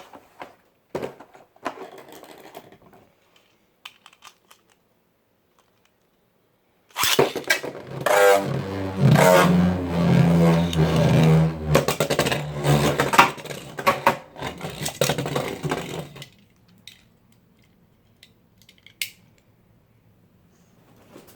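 A Savior Valkyrie SH Beyblade launched into a plastic stadium, a whirring, rattling spin of about nine seconds with scraping against the bowl, winding down to faint rattles after earlier handling clicks.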